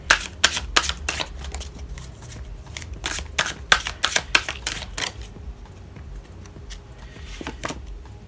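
Tarot cards are shuffled in crisp, rapid bursts of riffling and flicking, loud and close, with the clatter dense over the first five seconds before thinning to scattered soft taps.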